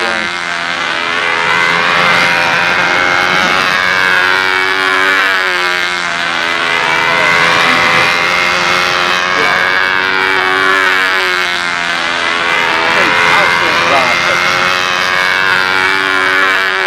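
A radio-controlled model airplane engine buzzes loudly and continuously, its whine rising and falling in pitch as the plane circles, passes and banks, with no talking.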